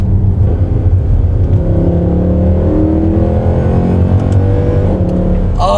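A Mercedes C63 AMG 507 Edition V8 with forged pistons, new connecting rods and a lighter crankshaft, running a 7-speed transmission, revs hard and loud under acceleration. The engine note climbs steadily and stays close throughout, with a sharp burst right at the end.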